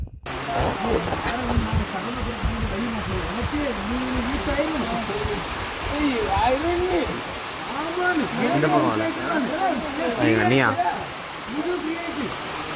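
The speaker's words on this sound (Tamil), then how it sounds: "மேலேருந்து விழுறது வந்து தண்ணி ரொம்ப ஃபோல்ஸாக இருந்துச்சு" Agathiar Falls at Tovala in Kanyakumari pours down with a constant loud hiss of falling water, while several people chatter and call out over it throughout.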